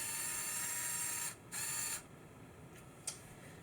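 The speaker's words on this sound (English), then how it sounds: "The bed opens with another large motor and a large linear actuator." A Lego Technic large motor driving a large linear actuator whirs steadily to open the bed of a Mercedes-Benz Unimog U500 model, then briefly stops, restarts, and ends with a soft click.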